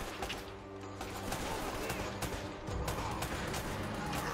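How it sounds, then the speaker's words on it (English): Enemy gunfire in the action game Uncharted: Drake's Fortune, a steady clatter of rifle shots from more than one direction, mixed with continuous game noise at moderate loudness. "one person shooting at you from top, one person shooting at you from the side"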